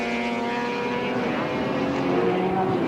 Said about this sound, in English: the acceleration of the RX-7 is like greased lightning